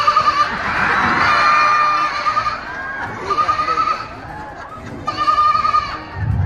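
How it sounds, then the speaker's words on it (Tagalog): A goat bleats in several loud, wavering calls amid a lively crowd with children shouting and people talking nearby. "Goat sound."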